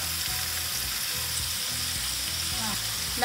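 Chicken thighs frying in a pan give a steady, dense sizzle with crackling spatter throughout, close and continuous, with no voices.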